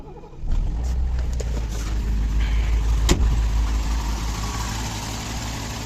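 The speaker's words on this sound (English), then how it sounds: "Engine is running pretty well." An untuned car engine with a dual throttle body cranks and catches after a short quiet start, then settles into a steady, loud, low idle with one sharp click partway through.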